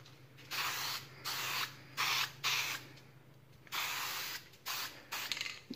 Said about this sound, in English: we'll give this a bit of a spray and hopefully it comes out all right.